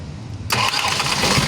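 A flood-soaked car engine cranks and catches abruptly, jumping into a loud steady running rumble close by.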